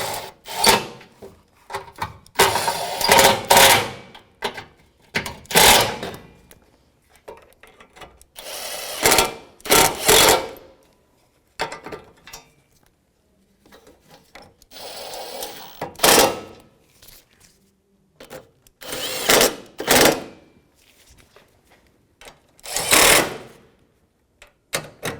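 A 10mm socket ratchets and snugs bolts during an AC condenser replacement on a 2009-2014 Nissan Maxima, heard as loud, close bursts of rapid clicking separated by pauses, with no speech.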